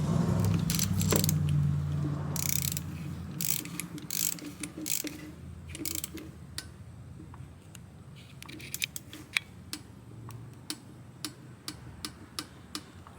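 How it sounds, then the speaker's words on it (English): An old-school mechanical torque wrench set to 10 foot-pounds tightens spark plugs with a rapid ratcheting clicks, close and crisp, easing into sparser individual ticks toward the end. "We have our torque wrench on here. This is an old school mechanical one."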